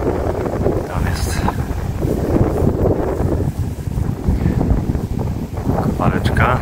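Steady wind buffets the microphone in a continuous low rumble near a dolomite quarry, with occasional faint higher hiss bursts; a voice seems to murmur underneath.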